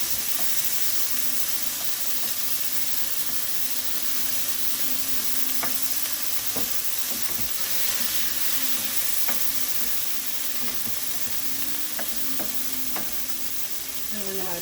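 Onion and tomato sizzle steadily in a hot pan for a Filipino dish, with a spoon scraping and stirring through them at intervals, loud and close.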